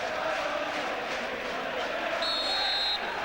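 A football crowd roars at a Dundee v Celtic Premier Division match, a steady dense wash of noise from a packed stadium, with a brief whistle-like tone near the end.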